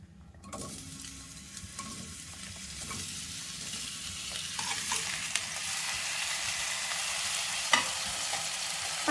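Vegetables fry in hot oil with mustard seeds and cumin for bisi bele bath, a steady sizzle that grows fuller with occasional stirring scrapes and clinks of a utensil against the pan.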